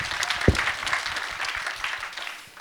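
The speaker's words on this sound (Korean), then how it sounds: "박수 한번 크게 한번 쳐주세요" An audience applauds steadily, a dense wash of clapping from a crowd, filling the whole moment without any talking.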